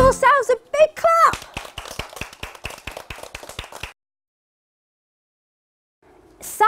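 A group of children clap in a fast, steady run of about a dozen sharp claps after an adult voice sings, then silence before another voice starts.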